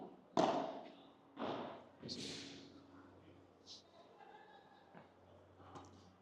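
A ball is struck during a training session, giving a few dull thumps in a room, the first two strongest, with voices speaking around the hits.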